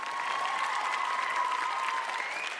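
A crowd at a kickboxing event in Tangshan applauds in a dense, steady wash of clapping for the whole stretch, with an arena tone sustained underneath.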